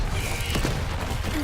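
A Confringo blast spell goes off in a video game: a sharp burst rising out of a dense, steady rumble of game noise, brief and loud.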